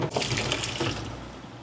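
Hot water from boiled potatoes pours out of a pot into a sink in a continuous loud splashing rush, steady and close, with no talk over it.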